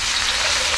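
Garlic frying in olive oil in a non-stick pan for a shrimp scampi, giving a steady, close sizzle of dense crackling hiss with no pauses.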